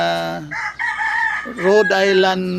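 A Rhode Island Red gamecock rooster crows once, loud and close, in a long drawn-out call that rises and breaks partway through, lasting nearly the whole moment.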